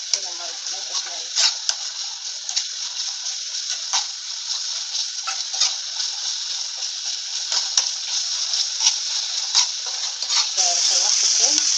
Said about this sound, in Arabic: شوحت الثوم